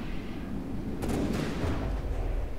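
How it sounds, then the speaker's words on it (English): A large missile launches in the naval combat game From The Depths, a sustained loud rumbling roar with broadband hiss swelling midway and carrying on steadily to the end, alone without talk. "we just launch a large missile as well"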